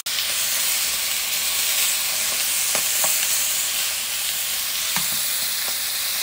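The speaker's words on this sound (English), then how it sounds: "In goes some of our lovely chunks of venison, our muntjac. And we're going to brown this nicely" Chunks of muntjac venison browning in a hot pan give a steady, loud sizzle and hiss with occasional pops and crackles; no one talks.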